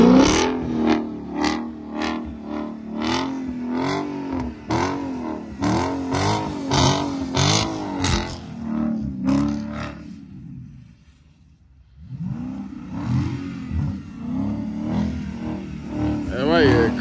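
A Dodge Charger SRT 392 in sport mode, its big V8 repeatedly revving loud and close in throaty bursts, briefly dropping off before rising again, with someone talking over much of it.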